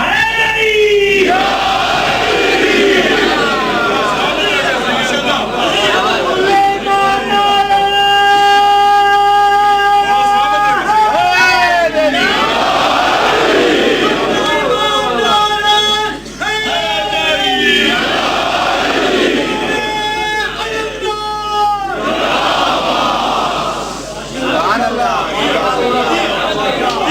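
A large gathering at a Muharram majlis chants the Naara-e-Haidar slogan in loud, rhythmic call-and-response waves, with a voice leading the chant over the crowd's repeated shouts.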